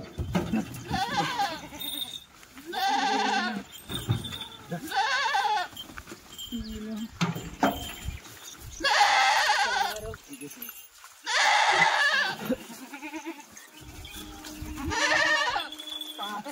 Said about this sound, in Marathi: 1 बोकड आणि 4 शेळ्या